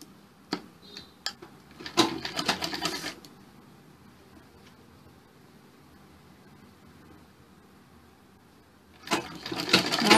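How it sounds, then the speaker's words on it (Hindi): A sewing machine stitches a collar from the back side in short bursts of rapid clattering, with a long quiet pause between runs, close and with no voices. "इसको सिलना इस साइड से नहीं है, इसको बैक साइड से ही हमने सिलना है"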